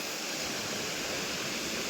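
A waterfall in the Malenadu region, running with low water after little rain, gives a steady, even rush of falling water that stays constant and moderately loud for the whole stretch.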